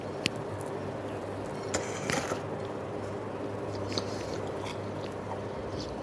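Someone bites into a roti john sandwich of bread, corned beef, egg, mayonnaise and sauce, giving a few soft, close crunches followed by quiet, moist chewing over a steady low background hum.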